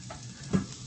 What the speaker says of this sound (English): let's stir fry you until aromatic